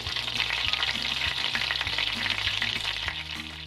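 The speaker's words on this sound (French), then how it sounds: "Faites fondre le beurre et laissez-le cuire tant que vous entendez un petit crépitement." Butter melting in a dry saucepan for pistachio-raspberry financiers, giving a steady, close, dense crackle and sizzle with faint stirring scrapes and no voices.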